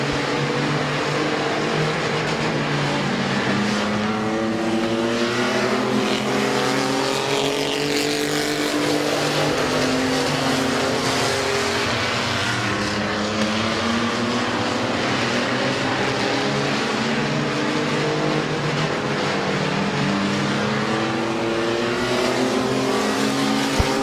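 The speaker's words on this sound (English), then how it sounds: "Here comes Colt Locker on the outside for second on the 95 of Michael Barnes." Race cars at Midvale Speedway roar around the track in a continuous loud drone, engine pitches rising and falling as several cars pass and accelerate, with no talk heard.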